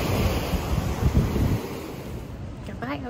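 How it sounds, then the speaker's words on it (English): Ocean waves wash onto the beach at Southport, North Carolina, a continuous roar of surf with wind buffeting the microphone, fading out toward the end. "Goodbye, ocean."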